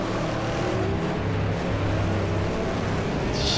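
Engine of a less powerful car in the racing game Wreckfest, a steady low droning hum with no breaks, running under the action at moderate loudness.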